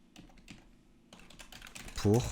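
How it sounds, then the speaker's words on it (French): Quiet, irregular clicks of computer keys being typed close by, with a voice speaking briefly near the end. "désolé pour les bruits de clavier"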